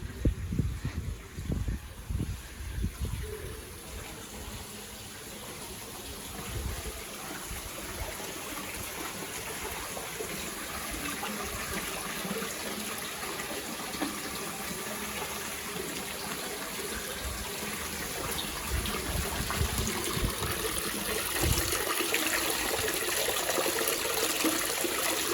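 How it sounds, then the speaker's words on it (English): Water runs steadily at Mary's Spring, the Virgin Spring in Ein Kerem, a continuous close trickle and splash that holds even throughout, with a few soft low knocks at the start. "So here is the location of the Virgin Spring"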